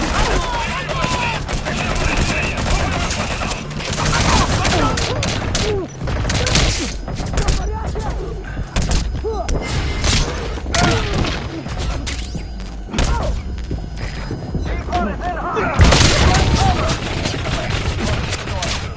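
Dense gunfire and heavy thuds of explosions in a PS4 combat game, sustained volleys and bursts running continuously throughout with intermittent radio-style voices underneath.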